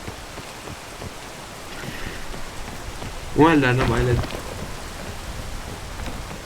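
Steady rain in the video game PEAK, a continuous soft hiss that carries through the whole stretch, with a person speaking briefly over it midway.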